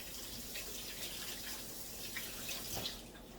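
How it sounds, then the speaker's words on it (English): Water from a kitchen tap runs over hands being rinsed after mixing garlic-butter shrimp sauce, a soft, steady splashing stream with faint drips, fairly quiet and with no talking. "Rinse my hands off."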